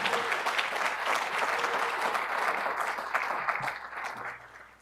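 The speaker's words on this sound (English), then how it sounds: "So let's give a big cheer for the students who we will celebrate." Audience applause and cheering for students at a summit celebrating upcoming commencement, a dense, loud, sustained wash of clapping that tapers slightly at the end.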